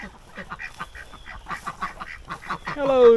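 Ducks, including a mallard, quack and chatter in a run of short, clustered calls close by, growing louder toward the end as a sharper honk-like call rises over them.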